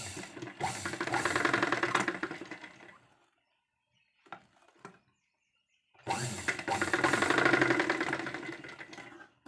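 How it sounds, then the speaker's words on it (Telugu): A sewing machine runs in two sustained bursts, stitching fabric for hair bands. A quiet pause between the bursts holds a few soft clicks, and the motor whirs close and steady with no talking. "ఫ్రెండ్స్ ఇలా మనం ఒక స్టిచ్ అయితే వేసుకోవాలి"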